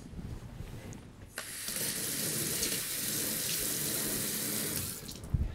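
A kitchen tap runs close by to wet a tiramisu dish, starting with a short splash and then a steady rushing stream under the sink for several seconds, with a small clatter near the end.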